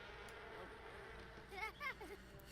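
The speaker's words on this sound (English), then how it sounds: "I'm getting attacked again by these bees." Bees buzz in The Sims 4, a faint droning hum beneath the game's background sound, with a few short chirpy tones rising near the end.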